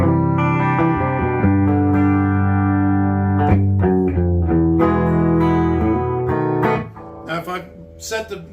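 Electric guitar through a Fender tube amp with a warm, fat tone and light reverb, strummed chords ringing out then trailing off into a few softer notes.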